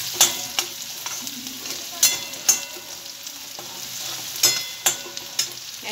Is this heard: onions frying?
yes